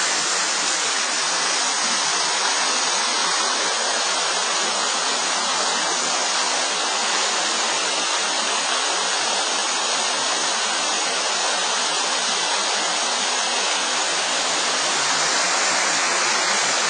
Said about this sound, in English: In the cave, nice amount of water flowing. You probably can't hear me because it's very noisy.